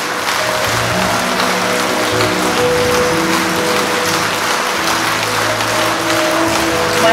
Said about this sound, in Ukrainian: Маестро, це ваші оплески.